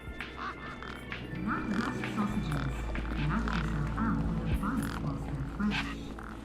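Birds quack and honk near a truck in the video game Beyond a Steel Sky, with repeated calls that come through under ongoing talk and game music.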